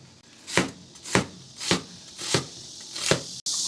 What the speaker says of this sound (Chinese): 切点洋葱丝